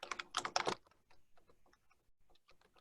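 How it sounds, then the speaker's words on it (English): Quick typing on a computer keyboard, a flurry of close clicking keystrokes at first that thins into scattered, fainter taps with brief gaps, alone without speech. "Let me type it up real quick."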